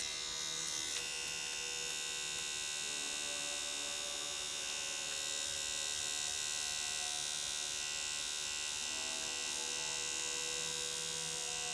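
Nano tattoo machine running at 7 volts, a steady high-pitched electric buzz that holds unbroken and fairly quiet for the whole stretch.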